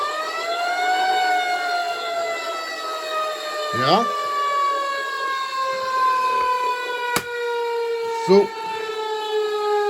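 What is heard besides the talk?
siren sound effect from a vehicle sound module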